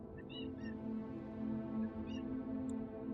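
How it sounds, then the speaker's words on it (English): A cat gives a few short, soft meows at intervals over a steady low indoor hum, faint and fairly close, with no talk. "He was meowing a little louder there."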